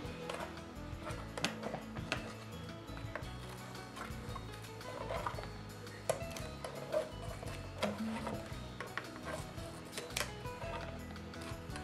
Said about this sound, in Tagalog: ilapat sa hulmahan at guntingin ang paligid